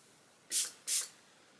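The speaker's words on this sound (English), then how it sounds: "So you just spray this at the root." Two short bursts of volumizing hair spray hiss from a can aimed at the hair roots, close and crisp, separated by a brief pause in a quiet room.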